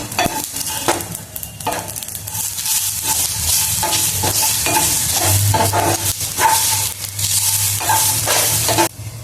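Whole spices (cinnamon, cloves, black pepper, green and black cardamom) sautéed in oil for a village-style Maharashtrian prawn curry masala: steady close sizzle with repeated scraping stir strokes, no talk.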